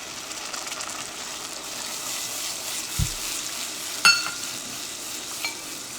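Butter, sugar, evaporated milk and egg yolks for German chocolate cake frosting are stirred in a pot, giving a steady soft sizzle with scraping strokes and one sharp clink of the spoon, with no talking.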